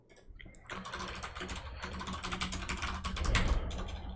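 Rapid keyboard typing clatters nearby, a steady stream of clicky keystrokes that grows a little louder near the end, with no speech.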